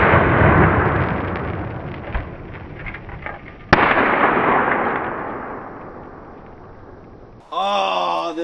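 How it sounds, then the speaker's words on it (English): A stuck ammunition round grenades inside a gun barrel outdoors, a loud sustained roar of burning powder broken by a sharp bang midway, then fading, with someone speaking right at the end. "We're actually still waiting for this round to grenade."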